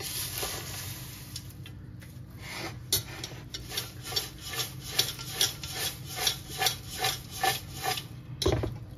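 Chivda of flattened rice, dals and powdered sugar being tossed by hand in a bowl, a close, rhythmic dry rasping rustle that swells into regular strokes roughly twice a second, with no voices.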